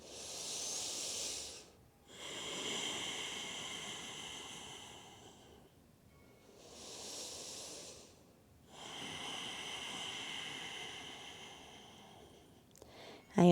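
Slow, deep breaths during a yoga stretch, long airy inhales and exhales in an even rhythm, about three full cycles, close and quiet with no talking.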